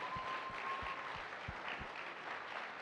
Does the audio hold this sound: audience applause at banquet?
yes